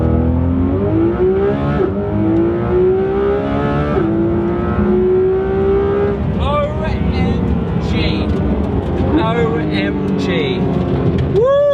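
A Porsche 911 GT3 RS with a 3.8-litre flat-six making about 375 horsepower revs hard, its engine note climbing and dropping in repeated rising sweeps, loud and close throughout.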